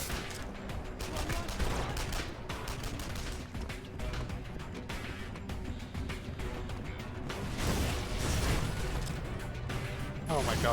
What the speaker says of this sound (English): Oh my god, that Gauss cannon.